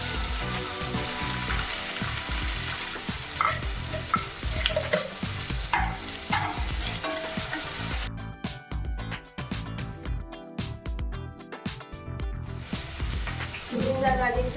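Potatoes with ginger garlic paste fry in a pan with a continuous loud sizzle and scraping stirs, punctuated by utensil knocks throughout, close up.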